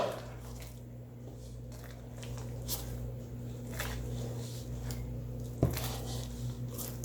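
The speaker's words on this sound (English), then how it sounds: "Just a little bit more water, just so it can grab all of that dry flour that's on the bottom of the bowl." Bread dough for quick rolls is worked by hand in a bowl after a splash of water is added, giving soft, wet squishes and faint patters over a steady low hum.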